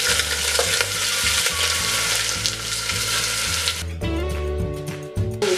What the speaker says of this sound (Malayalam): നമുക്ക് അതിലേക്ക് സവോള ആഡ് ചെയ്യാം.